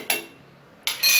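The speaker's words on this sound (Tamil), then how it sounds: "நம்ம மூடி போட்டுடலாம்" A lid is set on a cooking pan of spicy raw banana fry, making two short, bright metallic clanks about a second apart, close and alone over a quiet kitchen hum.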